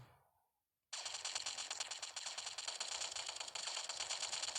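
Automatic gunfire in the zombie shooter game Zombie Combat Simulator starts abruptly after a brief quiet and rattles on continuously, a dense rapid-fire burst that stays loud and steady to the end.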